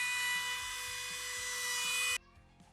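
Power saw cutting timber against a jig for a speaker build, a loud close high whine sustained for about two seconds and then cutting off abruptly into quiet workshop residue.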